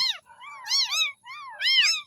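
Three small abandoned kittens mew in a run of high, thin, rising-and-falling cries, several overlapping calls in quick succession, close and fairly loud with no talking.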